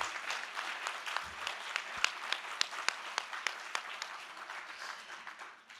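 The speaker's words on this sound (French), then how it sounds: "Et on peut évidemment les applaudir." Moderate applause from an audience at the opening of a library association congress, soft and somewhat distant, with a few sharper individual claps standing out before it tapers off.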